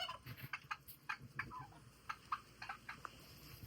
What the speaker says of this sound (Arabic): هاد الدجاج البلدي